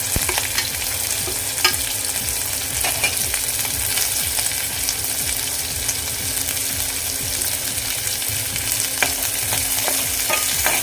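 Onions sizzle and fry steadily in a pan for kang kung garlic, with frequent scraping stirs and clinks of a spoon against the metal; loud, continuous and close, with no voices.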